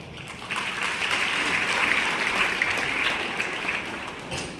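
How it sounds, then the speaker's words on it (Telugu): An audience at a church meeting applauds in a dense, continuous wash of hand claps that stays loud and even throughout. "ఇంతేనా చప్పట్లు కొడతారు?"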